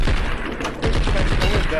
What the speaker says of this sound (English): Yo, why am I getting shot?